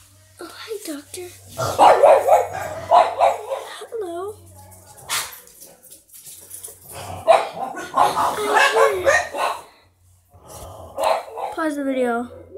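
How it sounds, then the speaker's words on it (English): Dogs bark and yip in short bursts, with a gasping, whimpering quality, mixed with people talking close by. "So what you hear right now is actually the dogs."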